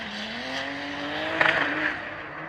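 A red BMW drift car holds a steady engine drone with a brief burst of tyre scrape and squeal in the middle, heard from a distance at a practice session, with no talk.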